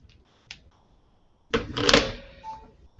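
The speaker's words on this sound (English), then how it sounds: "If I can plug my phone in." A phone charger plugged into a phone, with a few faint clicks and rattles followed by a louder burst of plastic fumbling and scraping close by.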